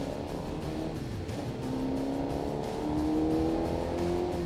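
A race car engine drones steadily nearby, its pitch climbing gradually as it accelerates away out of the pit lane, with no voices present.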